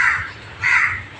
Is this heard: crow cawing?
yes